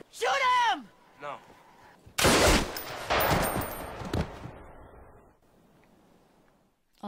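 Bursts of wartime gunfire from a Band of Brothers scene, loud rapid shots and a heavy volley crackling for a few seconds, with a shouted voice before it and the noise then fading away.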